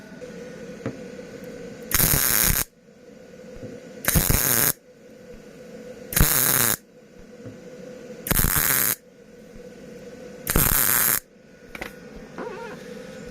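Five short, loud crackling bursts of MIG spot welding on a Ford Transit campervan body panel, evenly spaced about two seconds apart with quieter pauses between each tack weld.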